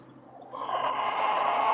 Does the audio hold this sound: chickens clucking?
yes